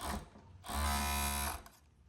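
A sewing machine stitches the sleeve seam of a basic shirt, a close mechanical whirring burst lasting under a second between quieter moments.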